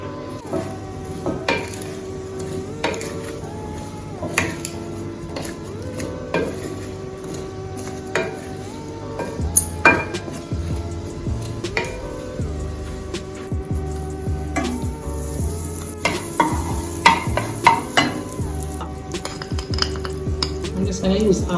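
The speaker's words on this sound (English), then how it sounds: "And I just saute my curry." Potatoes sautéing with curry powder, black pepper and salt in a pan: a steady soft sizzle under repeated clinks and scrapes of a utensil stirring against the pan, close up and continuous.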